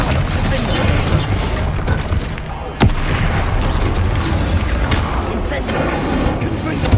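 A fire spell being cast in Hogwarts Legacy: a loud, dense, roaring burst of magical flame that runs steadily throughout, with one sharp crack partway through.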